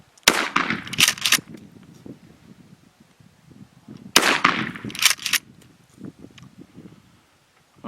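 Two loud, sharp gunshots fired at a shooting range, spaced about four seconds apart, each with a brief ringing decay, then low background rumble and faint movement.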